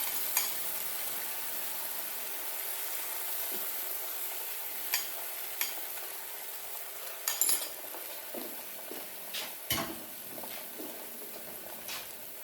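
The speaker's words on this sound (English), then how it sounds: "Start moving your egg around in the frying pan." Steady sizzle of an egg frying in a cast iron pan fills the clip, with occasional sharp clicks and scrapes of a utensil against the pan, growing busier toward the end.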